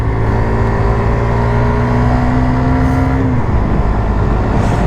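A Suzuki GSX-R 125 cc sport motorcycle engine during tyre break-in, heard close and loud as a steady droning rev whose pitch glides downward before dropping off partway through.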